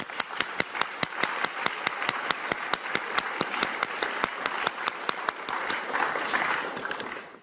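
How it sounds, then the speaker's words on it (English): Applause at a book release event fills the room with steady clapping, and a few sharp, close claps stand out at a regular beat above the crowd. "a round of applause, I think"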